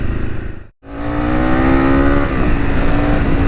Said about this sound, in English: you just wind it on and let it rev